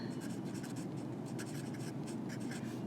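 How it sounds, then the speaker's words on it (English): A pen scratches steadily across paper as lecture notes are written, with a faint continuous scribble, small strokes and a low background hum; no one speaks. "And so let's write that here"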